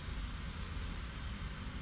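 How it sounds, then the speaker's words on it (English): An aircraft engine starting up in the X-Plane 10 flight simulator gives a steady, loud, broadband roar that fills the whole moment without a break and has no voices over it. "We'll start the other engine now."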